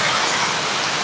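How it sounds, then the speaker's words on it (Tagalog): Heavy rain pours down during Typhoon Uwan in Tuguegarao City, a dense, steady roar of downpour with no breaks, close and loud for about a second. "talaga namang buhos ang ulan"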